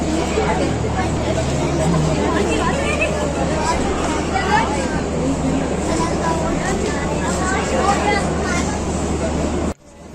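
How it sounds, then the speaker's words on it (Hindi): A Pakistan Railway passenger train pulled by an American GE U20 diesel locomotive departs in rain, a steady rumbling engine and carriage drone close by, with people talking over it until it cuts off at the end. "अल्हम्दुलिल्लाह पूरे टाइम पर ट्रेन रवाना हो रही है"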